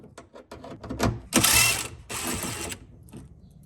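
Ratchet wrench clicking as it backs an 8mm screw out of the fender edge at the front bumper of a Hyundai Elantra, a close series of quick ratcheting bursts, loudest in two sustained runs, with no talking.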